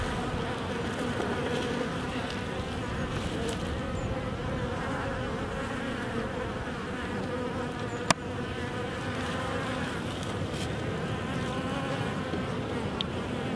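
A dense, steady drone of many honey bees buzzing continuously around an open hive, close and loud, with a brief sharp click partway through.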